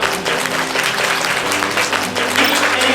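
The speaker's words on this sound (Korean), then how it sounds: "큰 박수를 부탁드리겠습니다" An audience at a women's volleyball rookie draft ceremony bursts into steady, loud, sustained applause with thick overlapping claps throughout.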